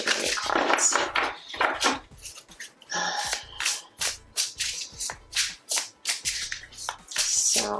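Tarot cards are shuffled by hand in quick bursts, crisp riffling flutters and soft slaps repeating in an uneven rhythm, close and clear with no voice over them.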